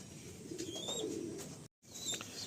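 Madrasi pigeons coo softly in a loft, several low rolling calls with a few higher chirps. A brief dropout cuts in near the end and no voices are heard.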